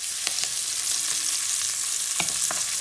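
Meat and tocino fry in a pan for Puerto Rican arroz guisado, with a dense, bright sizzle running throughout, broken by a few sharp clicks of stirring.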